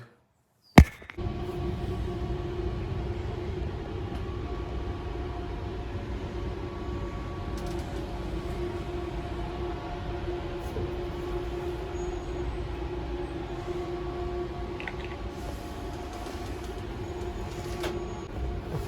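Continuous low rumble and rattle of a moving train in Germany heard from inside a nearly empty carriage, steady throughout after a single sharp knock at the start.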